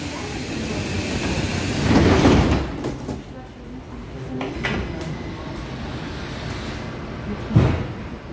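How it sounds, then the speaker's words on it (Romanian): Sliding doors on a metro train on line M3 close with a whooshing thud over the steady rumble of the carriage, with a second bump near the end, while a recorded voice announcement plays. "Atenție, se închid ușile."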